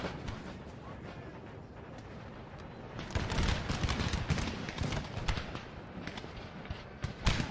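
Cannon volleys in a Napoleonic-era war game set in 1809, as British guns pound a French infantry square on a hillock; after a quieter stretch, loud, dense booming and crackling gunfire erupts and keeps rolling without a break.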